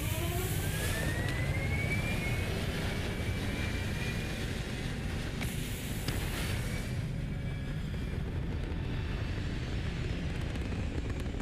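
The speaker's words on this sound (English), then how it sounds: "Full thrust is firing." A spaceship's thrusters at full thrust in Starfield, a steady, loud jet-like roar with a rising whine near the start that holds for the whole stretch.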